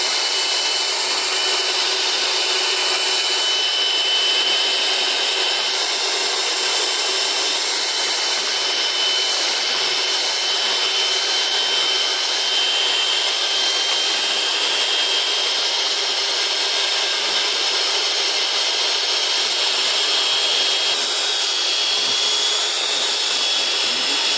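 A new electric hand mixer's beaters whir steadily and loudly for the whole stretch, a constant high motor whine with no talk over it.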